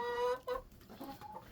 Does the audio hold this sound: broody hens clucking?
yes